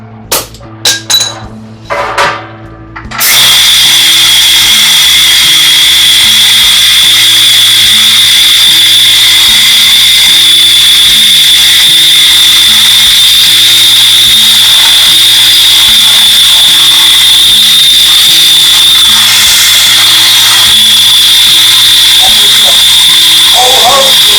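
Compressed air leaking from a valve on the manifold block of a Mayflower 560 tire changing machine, a loud, steady high-pitched hiss that starts after a few short clicks and runs continuously.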